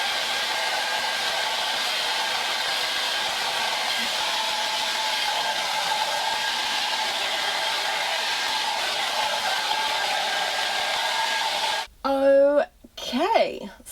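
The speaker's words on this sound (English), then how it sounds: "blow dry done" Hair dryer blow-drying long hair, a loud continuous close whooshing roar that cuts off near the end, followed by a person speaking.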